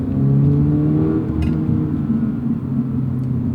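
Toyota GR86 engine pulling hard in second gear with the manual transmission, a loud steady rising drone with strong harmonics from start to finish, no voices over it.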